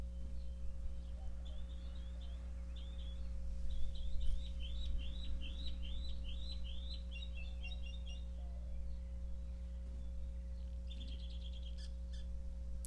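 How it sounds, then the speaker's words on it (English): Outdoor birdsong on a breezy day: a bird repeats a rapid, high series of chirping notes, then a second short trill arrives later, all moderately distant over a constant low electrical hum. "The birds are just beautifully singing."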